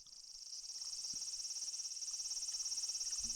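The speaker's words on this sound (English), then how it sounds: "Goddamn cicadas." Cicadas in the visual novel If My Heart Had Wings, a faint, continuous high buzzing drone that swells slightly and pulses rapidly and evenly, with nothing else over it.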